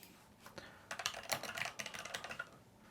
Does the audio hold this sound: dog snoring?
no